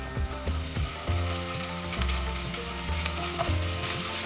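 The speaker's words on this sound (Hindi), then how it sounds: "प्याज हमें हाफ फ्राई करना है" Onions and green chillies half-fried with ginger paste and garlic paste in a pan, sizzling steadily with repeated stirring scrapes and clatters close up, no voices.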